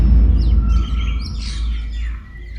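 Small birds chirp and tweet at dawn, a scatter of short calls over a steady low rumble of background noise, moderately near with no talking.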